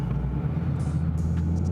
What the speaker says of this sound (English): This car is really fast.